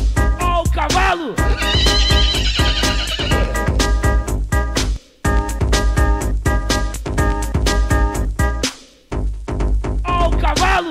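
Brazilian funk montage mixing a horse's neigh and whinny into a heavy driving beat, the whinny prominent near the start and returning at the end, loud and continuous apart from short pauses.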